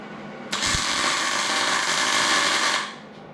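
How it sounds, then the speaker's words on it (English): A welder lays beads on the differential carrier of a WD21 Nissan Pathfinder, giving a steady, harsh crackling hiss that starts abruptly, holds close and loud for a little over two seconds, then cuts off. "we're gonna try to blast some welds in there"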